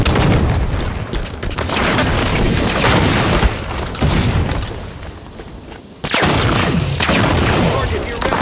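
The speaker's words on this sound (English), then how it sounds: "throwing a grenade." Loud booming grenade explosions from the Halo 5 video game, several heavy blasts in quick succession amid constant gunfire and game noise, with a sharp detonation near the end.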